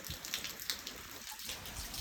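Rain falling in Kutiyana, a steady faint patter of drops that continues evenly throughout.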